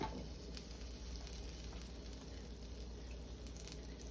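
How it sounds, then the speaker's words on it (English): Butter melting and sizzling in a pan for shrimp makes a faint, even, continuous hiss that holds steady throughout, with no voice over it. "I'm going in with 2 tablespoons of butter"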